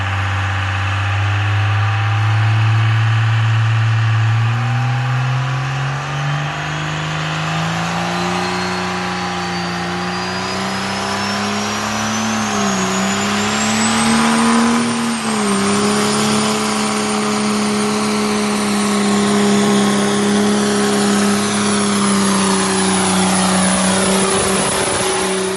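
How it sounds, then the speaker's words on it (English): A Cummins diesel truck doing a burnout holds a steady high-revving roar for a long stretch, pitch slowly climbing and dipping, with a tire squeal rising over it. "He's did a couple burnouts with it."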